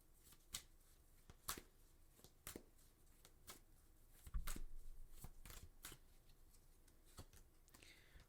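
Tarot cards being shuffled during a reading, a quiet run of crisp riffling snaps and flicks at an irregular rhythm, with a brief soft thump partway through.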